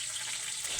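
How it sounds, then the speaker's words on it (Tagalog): Food fries in a pan with a steady, close sizzle and no pauses. "Nagsige po ko diri prito"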